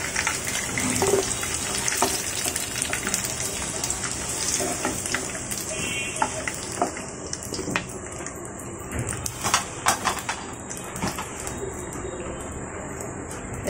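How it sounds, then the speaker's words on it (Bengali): Potatoes frying and being stirred in oil in a home kitchen, a steady crackling sizzle with occasional spatula scrapes and pops, close and continuous. "এখন আলুগুলোকে ভালোভাবে নেড়ে চেড়ে লাল করে ভেজে নেব।"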